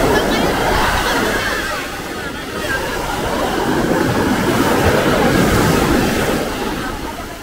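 Rough monsoon sea waves at Alubihod Beach, Guimaras, a continuous loud surf wash with surging swells, with people talking over it.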